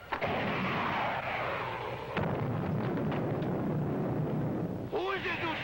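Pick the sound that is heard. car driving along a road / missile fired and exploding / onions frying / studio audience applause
missile fired and exploding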